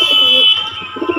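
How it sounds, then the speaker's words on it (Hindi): A male pigeon coos repeatedly at a female in low, throaty pulses, close and fairly loud, with a steady high-pitched tone running underneath for the first half. "ये देखो भाई बहुत ज़्यादा गुटकेगा नर कबूतर मादी को देख के"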